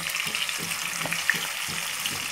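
Marinated chicken coated in spices frying in hot oil for biryani, a steady soft sizzle with faint stirring scrapes, close and fairly quiet, no voices.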